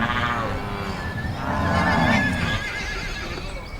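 A horse neighs on a large cattle ranch in the Los Llanos plains of Venezuela. The whinny is loud, close and wavering, and it rises and falls over a few seconds against a faint outdoor background.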